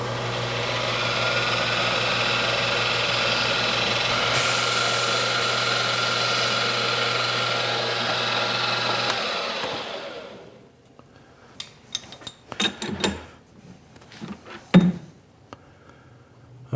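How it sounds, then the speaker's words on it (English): A center drill runs with a steady high whine for several seconds deburring drilled holes in metal, then stops, followed by scattered clinks and scraping of metal being handled. "let's deburr those using the center drill,"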